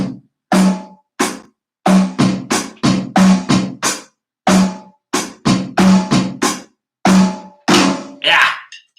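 A drum kit plays a groove with offbeat eighth-note bass drum hits: crisp, evenly spaced kick and snare strikes in short bursts with brief gaps, close and loud, with no talking.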